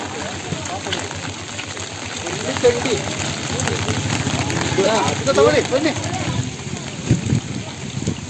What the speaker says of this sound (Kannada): ಜೋರಾಗಿ ಮಳೆ ಸುರಿತಾ ಇರುವಂಥದ್ದು